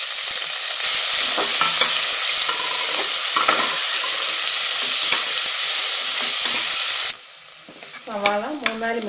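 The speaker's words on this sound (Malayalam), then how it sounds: "ഇനി ഇതിൻ്റെ കൂടെ സവാളയും കൂടെ ചേർത്ത് 3-4 മിനിറ്റ് നന്നായിട്ട് വഴറ്റണം." Onion sautéing in a pan with curry leaves, green chili and ginger for aval upma, a loud steady sizzle with frequent spatula scrapes that suddenly quiets near the end, leaving softer stirring and clatter.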